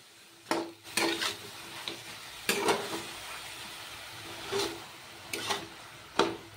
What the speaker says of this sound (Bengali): তো চলুন এভাবে নেড়ে চেড়ে আমি কতক্ষণ ঝিঙাটা সিদ্ধ করে নিই।